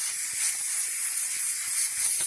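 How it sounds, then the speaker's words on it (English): Contact cleaner sprays from a can into a sticky Porsche ignition switch, a steady, close aerosol hiss that runs unbroken throughout. "Spray some of this contact cleaner."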